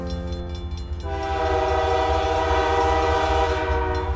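A train rolls past with its horn sounding, a steady multi-tone blast that swells louder after the first second and holds over the rumble of the cars, close and continuous.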